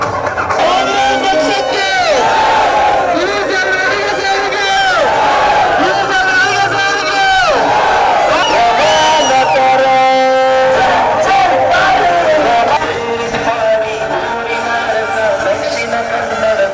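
Congress party workers at a Prajadhwani rally in Bantwal raise loud rhythmic cheers and chanted slogans, the crowd voices rising and falling in repeated waves alongside continuous babble close by.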